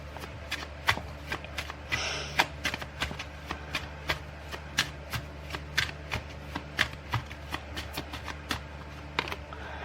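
Tarot cards are shuffled by hand in a quiet room, producing a steady run of crisp riffling snaps and soft slaps at a brisk, fairly even rhythm.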